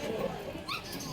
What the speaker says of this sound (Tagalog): meron tayo Rottweiler dito ngayon. Rottweiler. Yan. Puro tuta tayo ngayon.